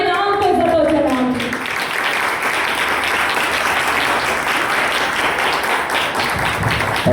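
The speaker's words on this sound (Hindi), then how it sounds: "तो आए अपनी तालियों से जिंदा खुदा के नाम पे जलाल।" A church congregation claps loudly and steadily at a Thursday healing meeting, with sustained dense applause filling the space after a voice fades out at the start.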